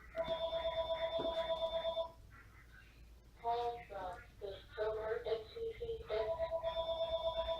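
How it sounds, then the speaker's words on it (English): An electronic telephone rings indoors in repeated trilling bursts, pausing while someone speaks over it before ringing resumes. "Excuse me while the phone rings."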